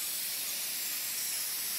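A steady hiss of spray cleaning an old button in Treasure Hunter Simulator, a continuous airy rush with no talk, fairly quiet throughout.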